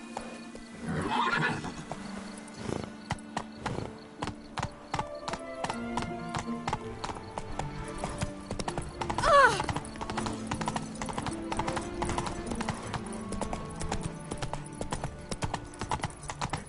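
Roach, a horse in The Witcher 3, trots with rapid, even clip-clop hoofbeats on hard ground, up close, with a loud whinny midway and no talking over it.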